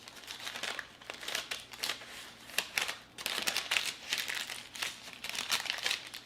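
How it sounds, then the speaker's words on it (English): Parchment paper is crinkled and creased while its edge is folded over repeatedly to seal a salmon en papillote pouch, giving close, steady crackling and rustling with no talk. "So I'm just gonna keep folding over the edge, folding over the edge."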